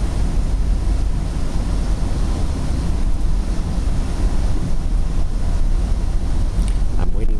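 Strong wind blowing on a clear, breezy day beside a commuter rail line, a loud steady roar of buffeting gusts against the microphone that fills the whole stretch.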